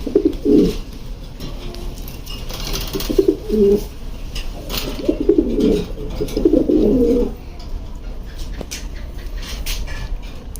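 Racer pigeons coo in a low, throaty rolling series, several bursts repeated close by with short pauses between, and no one speaks over them.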